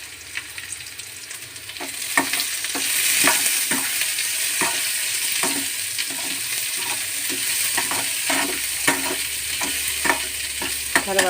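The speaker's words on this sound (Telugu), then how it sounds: "కొంచెం ఒక చిన్న సైజు అంతా ఉల్లిపాయలు సన్నగా కట్ చేసుకొని వేపుకోవాలి." Thinly sliced onions fry with potatoes in a pan for coriander-mint rice, hissing in a steady sizzle while a spoon scrapes and taps the pan in frequent irregular strokes, growing busier toward the end.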